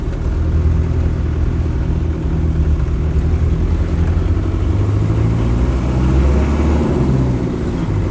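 A 1985 Land Rover 90 hardtop with a 2.5 diesel engine runs steadily close by, a loud, continuous low rumble with a slight rise and fall in revs and no voices.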